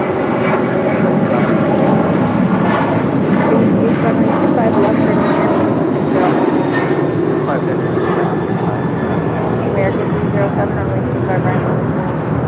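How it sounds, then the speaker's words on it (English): A United Airlines Boeing 737-900ER jet departing for Houston Intercontinental roars loudly and steadily with a broad, continuous engine rumble throughout. "This is United Airlines 2140 departing to Houston Intercontinental on a 737-900ER."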